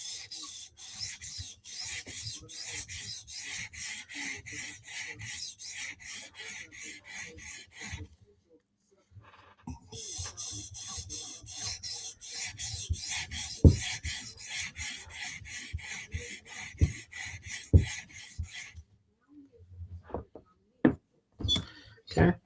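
Rhythmic rasping passes of a knife blade on a sharpening stone, running in two long steady stretches split by a short pause, followed by scattered knocks and clatters.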